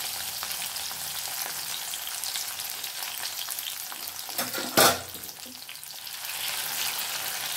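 Cut capsicum pieces dropped into hot oil crackle and sizzle in a steady, close hiss, with a sharp scrape or clatter of the pan near the middle.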